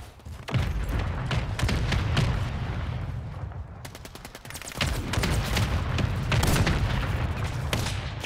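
An artillery fire mission rains down in a Call of Duty match: a long, loud barrage of booming explosions and rapid gunfire that rolls on continuously, broken by one brief lull.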